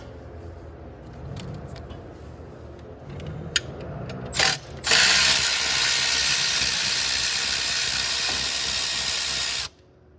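A ratchet removes manifold bolts on a Ram 2500 with a 6.7 Cummins. Light clicks come first, then a loud, continuous whirring rattle runs for several seconds close by before stopping abruptly.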